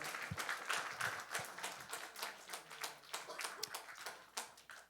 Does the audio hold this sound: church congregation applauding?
yes